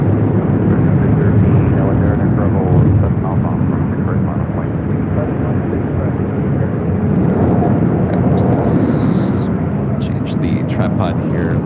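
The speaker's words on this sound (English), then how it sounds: "777-300ER touching down on 7 right." A Boeing 777-300ER jet landing on runway 7 right at LAX, a loud sustained roar of engines and rushing air close by, holding steady throughout, with faint bird-like chirps late.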